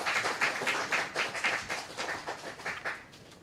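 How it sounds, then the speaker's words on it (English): A conference audience claps for a doctor taking the stage to speak, a steady run of brisk, fairly close handclaps with no talking. "huge round of applause for Dr. Ashton Cho"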